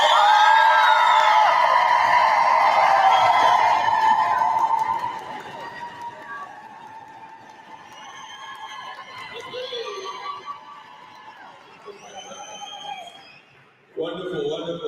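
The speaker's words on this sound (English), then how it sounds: "let's hear your version of good energy and a round of applause" An audience at a business event in Cosmo City gives a loud burst of cheering, whooping and applause that fades after a few seconds into a softer crowd murmur with scattered shouts, then rises again briefly near the end.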